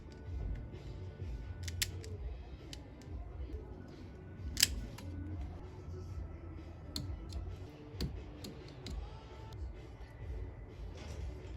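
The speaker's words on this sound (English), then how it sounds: "we just stripped the wire back, as you saw" Wire insulation is stripped during a Toyota 4Runner backup camera install: sharp, scattered snips and clicks from a cutting tool, close by, over a low background rumble.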